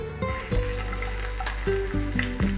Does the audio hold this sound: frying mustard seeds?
yes